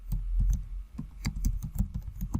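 Someone types a Google search on a computer keyboard, a close, quick run of uneven key clicks with no talking.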